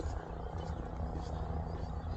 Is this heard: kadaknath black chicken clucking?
no